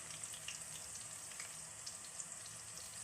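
Green chillies frying in a pan, a faint, steady sizzle with soft crackles and pops, heard alone.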